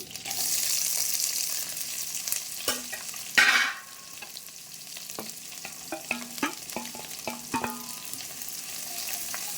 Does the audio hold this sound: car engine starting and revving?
no